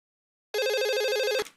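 A single electronic telephone ring tone sounds for about a second, loud and close, a steady warbling tone after silence that cuts off abruptly.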